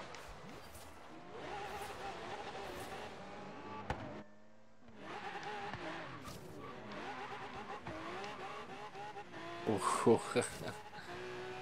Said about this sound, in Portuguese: o bicho sai cantando pneu